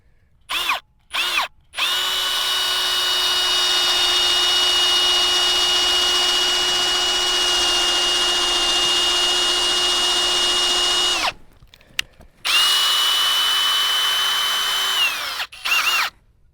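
A power drill bores a tap hole into a black walnut tree, running loud and steady for about ten seconds after two short starts, then resuming for a few more seconds with a stable high whine.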